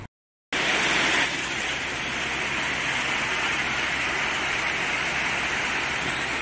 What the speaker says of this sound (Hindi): ओलावृष्टि होने लग गई है, बहुत मोटे मोटे ओले लग गए अब गिरने।